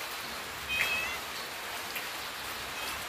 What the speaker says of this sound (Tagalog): Dito kami ng mga pusa.